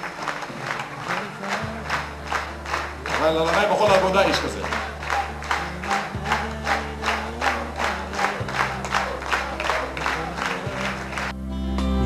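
Rhythmic audience clapping in time with upbeat music at a memorial event for Eli Shasho of Bnei Yehuda, with a surge of crowd cheering midway and a singing voice over the beat.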